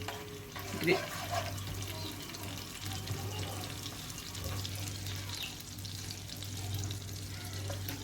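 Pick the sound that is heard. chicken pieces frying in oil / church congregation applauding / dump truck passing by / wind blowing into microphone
chicken pieces frying in oil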